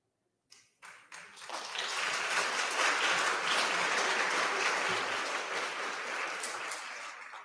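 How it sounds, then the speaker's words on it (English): A few isolated claps open the applause, then the audience at a county board of education meeting joins in, and a full, steady round of clapping swells and holds at moderate volume before easing slightly. "It's great to get a round of applause without knowing why you're applauding him"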